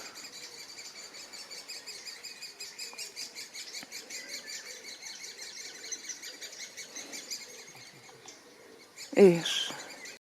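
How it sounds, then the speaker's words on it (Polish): European robin singing outdoors on a birding walk, a continuous thin run of high warbling phrases at moderate distance, ending with a sudden loud rustle or knock near the microphone. "Rudzik."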